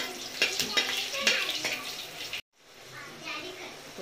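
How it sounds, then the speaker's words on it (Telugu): Cloves, peppercorns, three chillies and a bay leaf sizzle in hot oil for chicken dum biryani, a close, bright crackle with a few sharper pops. It cuts off abruptly, then resumes at a softer, steady fry. "లవంగం, మిరియాలు, 3 మిర్చీస్, బగారాకు వేసుకొని కొద్దిసేపు వేయించుకోవాలి."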